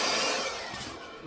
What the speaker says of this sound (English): here's my Hart handheld blower.